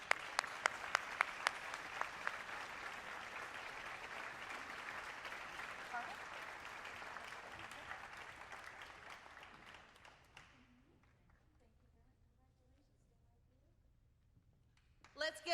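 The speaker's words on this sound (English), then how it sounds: "Let's give them another big round of applause." A ceremony audience in South Carolina applauds contest winners in full, even clapping that fades out toward the end, leaving near-silence before a few faint sounds at the close.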